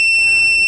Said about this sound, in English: As you can hear the beep, this one will not beep.